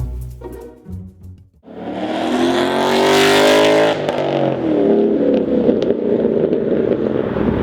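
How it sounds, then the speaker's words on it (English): A 2013 Mustang GT with an off-road X-pipe exhaust starts with a few uneven low pulses, then a loud throaty exhaust roars and revs steadily up close before settling into a deep rumbling idle. "my car is a tad louder. The reason for this being is I recently purchased a off-road X-Pipe"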